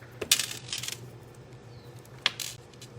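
A few sharp metallic snips and clicks of small scissors sound up close, spaced irregularly over a quiet background hum.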